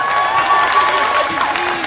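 An audience at a convention panel applauding the translator, a dense, steady wash of clapping from a crowd filling the whole moment at close range.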